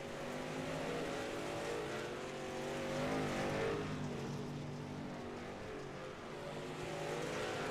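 Brandon Harris's number 33 dirt race car roars around a Wild West Dirt League track, a steady loud engine drone that swells briefly mid-clip as it passes close, other cars blending underneath.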